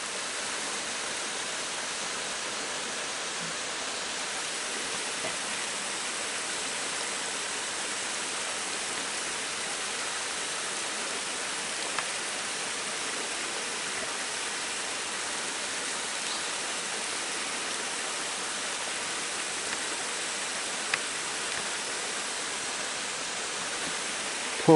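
A mountain stream rushes through Tookdong valley on Deogyusan, a dense, constant broadband roar of flowing water that stays even throughout with no voices.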